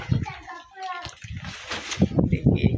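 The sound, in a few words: child splashing water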